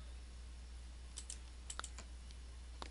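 Light, scattered clicks of typing on a computer keyboard, faint and close, a few keystrokes in small bursts over a low steady hum, with no talk.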